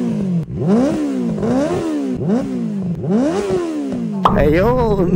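Benelli TNT 600i, a 600cc inline-four naked bike, revs repeatedly in rising and falling bursts, loud and close, with a person speaking briefly near the end.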